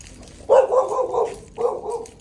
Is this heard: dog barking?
yes